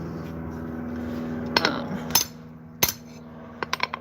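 A hammer strikes cold metal being planished while shaping a forged rose leaf, a handful of sharp ringing blows spaced irregularly, close up over a low steady background hum.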